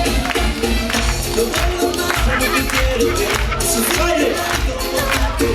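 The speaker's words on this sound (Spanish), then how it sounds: "¡Palmas, palmas," A TV studio audience claps in rhythm on a variety show, a steady dense patter of many hands blended with crowd noise and music.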